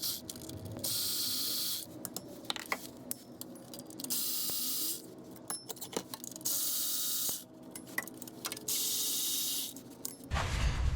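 Ratchet removing bolts under a Ram 3500 pickup, repeated bursts of rapid metallic clicking in several long runs with short pauses, close and clear with no talk.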